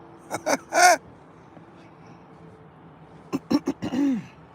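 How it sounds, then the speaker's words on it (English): A person clears their throat twice, each a short series of rough, raspy bursts close to the microphone, separated by a brief quiet gap. "Let me clear my throat."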